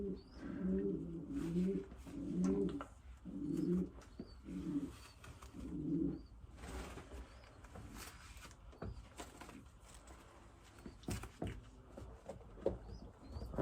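Racing pigeons coo in a loft, with several low, throaty coos repeated in a steady pulsing rhythm close by, followed by quieter rustling and faint chirps.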